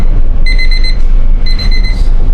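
A kitchen timer alarm rings while apple strudel bakes, two loud bursts of rapid high-pitched electronic beeping separated by a short pause, alone with no talk.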